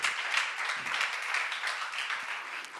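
An audience at a church seminar breaks into applause, a continuous, fairly close patter of many hands clapping that stays even for the whole stretch.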